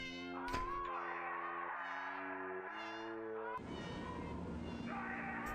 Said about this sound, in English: I'm very amused by the meows